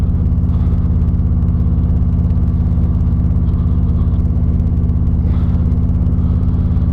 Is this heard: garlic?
no